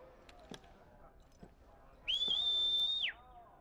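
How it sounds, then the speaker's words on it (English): A steady, high whistle from Final Fantasy XVI holds one pitch for about a second, loud and clear over quiet game ambience after a few soft knocks. "It's quite the whistle."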